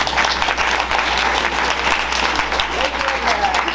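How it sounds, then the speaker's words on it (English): An audience at an attorney training panel claps steadily for the organizers, a dense, even round of applause that carries on throughout, with faint voices murmuring underneath toward the end. "So let's give a round of applause."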